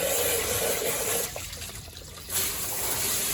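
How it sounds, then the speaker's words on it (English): Steady rushing and splashing of water flowing out of a big-block Mopar engine block during cleaning, fairly loud and continuous, easing slightly in the middle before picking up again. "I believe we got water coming out of there now."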